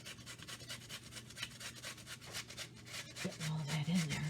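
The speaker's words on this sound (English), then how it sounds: "And just grate it." A large onion rubbed against a kitchen grater, making a run of quick rhythmic rasping strokes up close, followed by a louder, denser stretch of scraping near the end.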